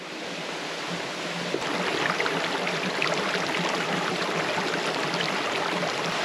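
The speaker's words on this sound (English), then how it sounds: "the wonderful sound of that flowing water from the creek below" Steady broadband rush of a forest creek flowing below, continuous and fairly close, with no voices over it.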